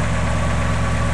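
A two-door 1963 Chevrolet Impala engine idling close by, giving a loud, steady, even rumble with a constant low throb and no break in the running.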